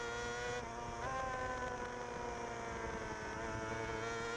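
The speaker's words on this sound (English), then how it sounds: "The Jackson Racing Honda machine. Listen to the revs change as he hits the bumps." Onboard sound of a Jackson Racing Honda road-racing motorcycle at the Southern 100 road races, engine note held high and rising and dipping slightly as the bike hits bumps, steady and fairly faint throughout.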